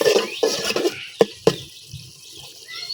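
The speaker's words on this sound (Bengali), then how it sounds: "এই জায়গায় মাছগুলো আমি কষাই নিতেছি।" Tilapia heads and fish pieces being sautéed in a pot, with a few distinct metallic clinks and scrapes of a utensil against the pot over a soft, continuous background.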